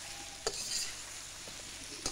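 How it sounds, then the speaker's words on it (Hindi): Potatoes frying in a pan with garlic, ginger and onion for an Afghani-style potato spinach dish, a soft steady sizzle with a few sharp stirring clanks near the start and end, no talking. "आलूओं को भी हम यहाँ पे फ्राई कर लेंगे इस लहसुन अदरक प्याज के साथ।"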